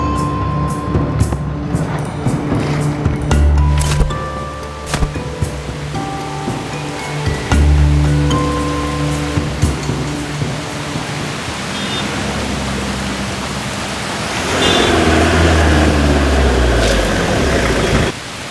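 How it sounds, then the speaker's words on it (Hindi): Steady rain falling around a bus stop, a broad continuous hiss that swells louder near the end, with faint voices and music in the background. "बारिश हो रही है"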